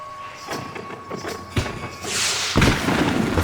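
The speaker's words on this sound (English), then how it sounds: "The fireworks display was clearly in my honor." Fireworks exploding in the video game Max Payne 3, a series of irregular thumps and booms, some sharper cracks among them, building to louder bursts near the end with a crackling wash between them.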